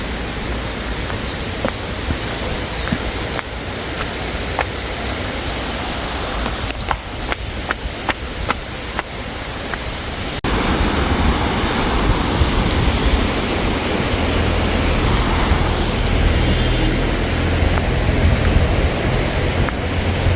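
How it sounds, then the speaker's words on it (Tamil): Fast-flowing river water in a forest near Munnar, Kerala, gives a steady, loud broadband rush that swells fuller and heavier about halfway through, with a few faint ticks and clicks over the top. "வாவ், தண்ணி நல்லாவே போகுது."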